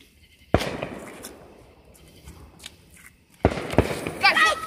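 A car-shaped firework toy goes off on the ground with sharp, close pops and a fizzing burst, as excited children talk and shout around it.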